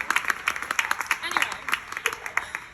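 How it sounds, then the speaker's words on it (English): Scattered, rhythmic clapping from a small cabaret show audience, individual hand claps distinct and fairly close, with a voice speaking over them. "So round of applause to John and Barb Bruce."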